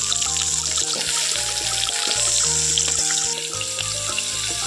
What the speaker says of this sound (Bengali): এখন দিয়ে দিচ্ছি সর্ষে তেল এখন দিয়ে দিচ্ছি আলুগুলো